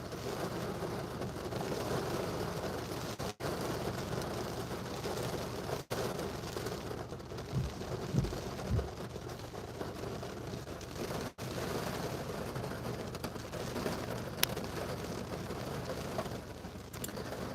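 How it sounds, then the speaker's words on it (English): Heavy rain from Hurricane Idalia drums steadily on a car in Perry, Florida, a dense continuous patter with a few brief louder thumps, heard from inside the vehicle. "I think it's raining outside"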